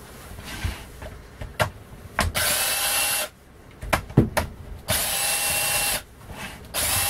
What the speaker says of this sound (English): So for that it's necessary to open this 4 screws.